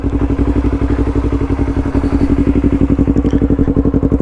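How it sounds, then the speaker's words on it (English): A sports motorcycle idles up close, its engine and exhaust putting out a loud, steady, rapid thumping pulse with a mechanical clatter and no voices. "But this exhaust is so different for a sports bike."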